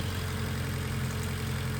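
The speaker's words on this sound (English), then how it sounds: "Here's still idling, gonna warm it up." A Honda K20A Type R engine idles in a steady, even drone with a constant low rumble and no change in speed, heard up close for about two seconds.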